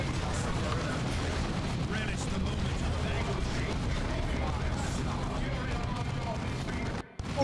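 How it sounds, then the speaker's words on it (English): Grenades and gunfire erupt in the Dawn of War 2 Retribution battle, a dense, continuous roar of blasts and shots that fills the whole stretch with only a brief dropout near the end. "throw some grenades in there"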